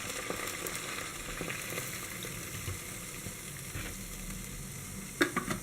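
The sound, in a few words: milk sizzling in a frying pan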